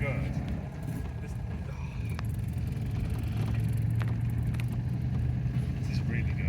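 A hired Citroen 2CV driving off-road in France, its engine droning and rumbling steadily from inside the car, with occasional knocks and rattles as the gears are shifted, under people talking.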